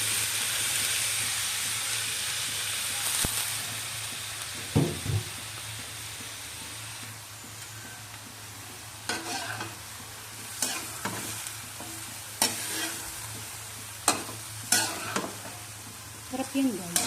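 Broccoli goes into a pan of chicken and tofu, frying under a steady soft sizzle, with several sharper spatula scrapes and stirring clatters toward the end.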